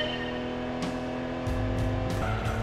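Race car engine in the Gran Turismo 2 video game, revving hard and bouncing off the rev limiter with a buzzing, stuttering drone, loud and continuous under game sounds.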